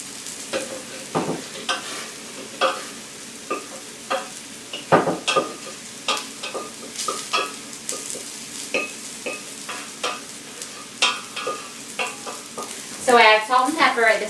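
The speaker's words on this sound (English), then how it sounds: "I'll put them back in the pan on the stove with the lid on." Mashed cauliflower is stirred in a pan on the stove, with repeated soft scrapes and taps of a utensil at an uneven rhythm over a faint background hiss.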